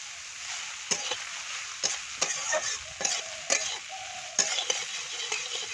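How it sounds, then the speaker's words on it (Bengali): Soybeans salted and frying in a pan give a continuous bright sizzle, punctuated by repeated sharp scrapes and knocks of a spatula stirring them at irregular intervals. "সামান্য একটুখানি নুন দিয়ে ভাজবো সোয়াবিনটা"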